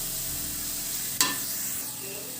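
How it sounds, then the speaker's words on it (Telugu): Onions frying with turmeric and salt in a pan for chicken fry, a steady close sizzle with one sharp clink of a spoon about halfway through, no voices. "చూడండి, ఇలా ఎర్రగా వేగుతుందిగా"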